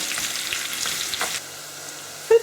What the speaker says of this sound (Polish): Skórki smażymy tak około 15 minut